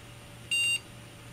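A PC motherboard with a graphics card installed gives a single short, clear electronic boot beep over a faint steady fan hum.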